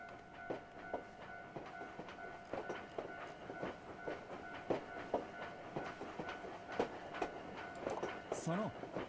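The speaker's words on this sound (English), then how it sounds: "Oh, there's the train sound again." Rhythmic clickety-clack of a train rolling past in a Shin chan video game, with steady wheel clicks and faint tonal hum, while a person talks over it.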